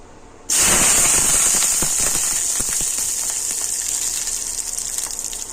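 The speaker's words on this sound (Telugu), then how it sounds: "కొద్దిగా ఆయిల్ వేసుకొని పచ్చిమిరపకాయలు టమాటాలు వేయించుకుందామండి" Green chillies and tomatoes drop into hot oil in a pan and burst into a loud, steady hiss of sizzling that starts abruptly and keeps going, fading only slightly.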